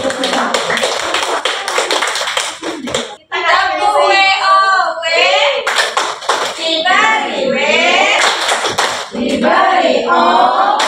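Classroom audience clapping hands in a patterned rhythm, loud and close, with children's voices chanting and calling along throughout.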